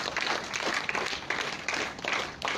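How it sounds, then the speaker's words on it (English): An audience breaks into applause at a ceremony, a dense wash of clapping that swells and dips in waves for a few seconds. "Claps go!"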